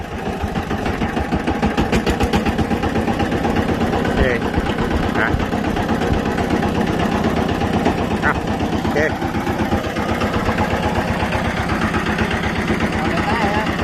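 An old Yanmar 11 hp walk-behind tractor engine runs close by with a steady, loud single-cylinder chug and a rapid, even thumping rhythm throughout, while someone talks over it.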